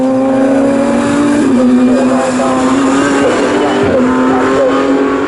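A sports prototype race car at Snetterton crosses the start-finish line, its engine a loud, sustained high-pitched drone with a slight pitch dip as it passes, heard alone without talking.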